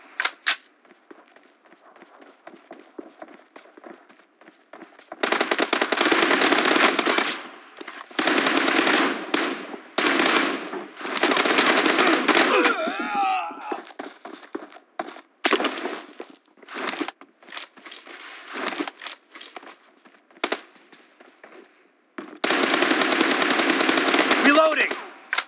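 M416 rifle fire in PUBG Mobile comes in loud, rapid automatic bursts separated by short pauses, with scattered single clicks and shots between them, close and dominant.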